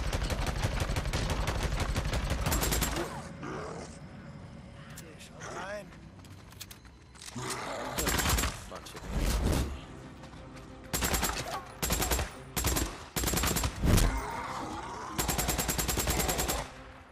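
Rapid bursts of automatic gunfire in the zombie video game Days Gone, loud repeated volleys separated by short gaps, with someone talking between the bursts.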